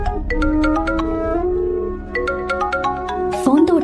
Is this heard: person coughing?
no